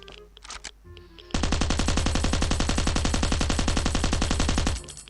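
Sustained automatic gunfire from a firearm in the survival video game Last Island of Survival, a loud, rapid and steady stream of shots lasting several seconds, preceded by brief quieter game sounds and cutting off abruptly.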